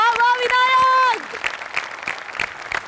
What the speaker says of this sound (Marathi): प्रचंड टाळ्या